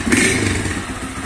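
A Honda Fan 160 motorcycle engine with an aftermarket exhaust revs briefly with a rough, throaty exhaust note, close and fairly loud.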